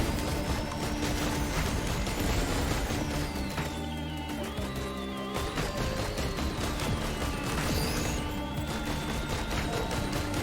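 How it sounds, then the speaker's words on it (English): Missiles firing in Risk of Rain 2 form a dense, continuous barrage of launches and blasts with a whistling, sweeping high tone overhead, steady and loud throughout with no pauses. "Missiles are doing work."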